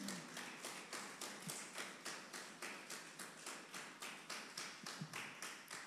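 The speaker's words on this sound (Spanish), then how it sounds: "¿Cuántos dan alabanza a Dios con una ofrenda de palmas?" Steady rhythmic hand clapping from a church congregation giving praise, evenly paced claps repeating for several seconds, soft and somewhat distant.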